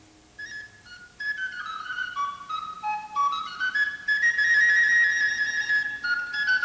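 A melodic whistle plays a wandering tune of sliding notes, steady and fairly loud, growing stronger toward the end with no voices.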